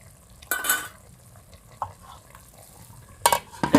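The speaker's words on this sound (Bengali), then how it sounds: "একটু নাড়াচাড়া দিয়ে নেই ভালো করে, তেলটা মিক্স করে নেই" Meat being stirred in oil in a cooking pot, with scraping and clattering bursts near the start, a brief knock in the middle, and another cluster of stirring clinks at the end over quiet sizzling.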